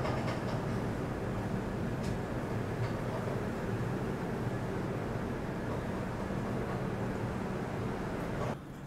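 The Tirumala Express (18521, Visakhapatnam–Kadapa) rumbles into platform 1 at Renigunta Junction, a loud continuous roar of wheels and carriages that drops off sharply near the end.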